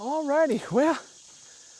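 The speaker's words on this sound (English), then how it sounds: "the cicadas are loud today" A steady, high-pitched insect drone like cicadas hums in the background while a person speaks briefly over it.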